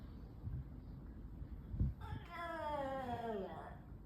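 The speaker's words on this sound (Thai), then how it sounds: "นี่มันเสียงแมวจริงเหรอ" A cat lets out a long, descending meow, close and clear, over a low indoor background with some noise.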